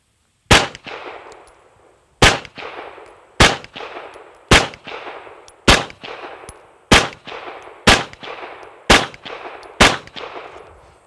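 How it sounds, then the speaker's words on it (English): Pistol fired during a trigger-isolation shooting drill: ten sharp, loud shots spaced about a second apart, each with a short ringing decay, with no talking. "And we would shoot our entire mag."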